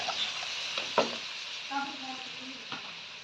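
Masala for a fish curry sizzles quietly in a pan, a soft steady fry broken by a few stirring scrapes and clinks, close but low in level.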